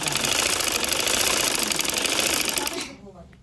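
A sewing machine stitches lawn cotton for a baby frock with a long stitch length, running as a fast, steady mechanical rattle close up for nearly three seconds before stopping abruptly.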